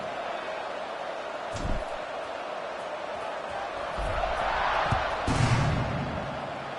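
Football stadium crowd noise during a game, a broad steady roar that swells gradually and carries scattered bursts and thumps, with faint talk underneath.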